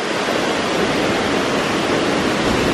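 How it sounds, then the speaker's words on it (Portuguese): A powerful waterfall, Cachoeira Charmosa da Corê in Bonito, Brazil, roars with a steady, loud, full-bodied rush of falling water. It stays close and unbroken throughout, with no voices. "Cachoeira Charmosa da Corê."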